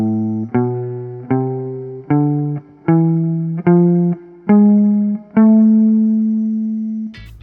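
Harmonic minor scale with a raised seventh degree, played as single electric-toned notes stepping upward at an even pace, each sharply plucked and decaying, the final note held long before a brief noise at the end.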